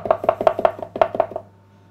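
A knife chops fresh herbs finely on a cutting board in about eight quick, evenly spaced knocks, close and crisp, then stops.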